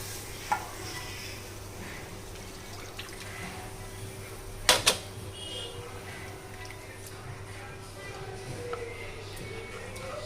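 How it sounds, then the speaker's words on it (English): A spoon scrapes and stirs a flour, butter and milk sauce in a pan, soft steady swishing with a low background hum and a couple of sharp clinks of utensil against the pan. "we have to ensure that there are no lumps, so we have to continuously go on stirring"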